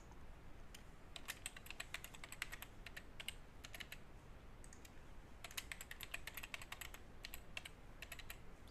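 Typing on a computer keyboard while setting up an account: quiet clusters of quick key clicks in bursts with short pauses, faint and close over a low background hiss, with no talking.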